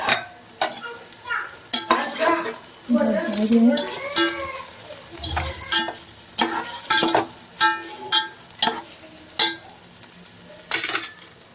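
Meat goes into a hot pot for biryani and is stirred. A spoon scrapes and clinks against the pot in repeated strokes over a soft sizzle, with no talking.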